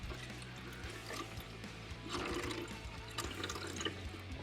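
Coolant draining from a loosened heater hose on a 2008-2009 Pontiac G8 GT or GXP, a steady close trickle and splash of liquid with low mechanical hum underneath, no talk.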